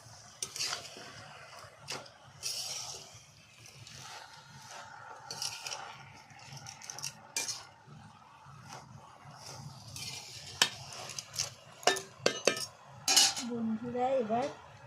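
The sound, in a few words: stirring crab and spinach curry in a pot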